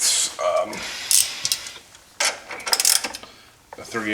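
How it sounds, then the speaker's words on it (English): Gear ratchet with a 3/8 socket working ATV A-arm bolts, giving several close, loud bursts of rapid clicking separated by short pauses, with metallic tool clinks between them. "This is a gear ratchet with a 3/8"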